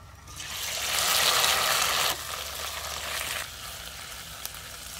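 Shrimp frying in hot soybean oil, a loud hissing sizzle that surges, then drops to a quieter steady crackle and eases further, with no voices over it.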